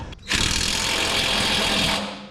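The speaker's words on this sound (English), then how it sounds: "Need to tighten up the bottom of the strut. So 19mm wrench there, 19mm socket" A power tool drives a 19mm socket onto a lower strut bolt on a 2005 Nissan Titan being fitted with a lift kit, a loud, close, continuous whir lasting about a second and a half.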